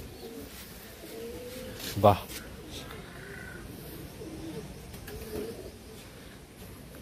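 Madrasi long-distance pigeons cooing softly in a loft, low faint coos in the background while someone speaks briefly now and then.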